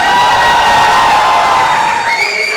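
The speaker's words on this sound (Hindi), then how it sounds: "एक बार जोरदार तालियां दीपिका के लिए" A crowd at a media event for Deepika cheers and applauds loudly. The roar is dense and continuous, with whoops and shouts rising over it for a couple of seconds.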